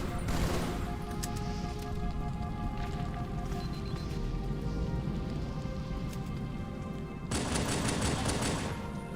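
Gunfire from the Halo 2 campaign: a dense, steady stream of shots with a busy rattling texture throughout, growing sharper and brighter near the end, loud and continuous without clear pauses.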